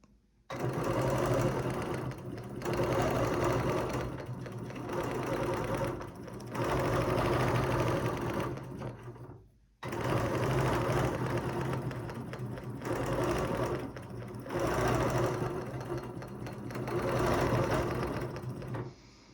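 A sewing machine stitches a quilt guided by a ruler, humming loudly and steadily in long bursts with one brief pause midway, close up and with no voices.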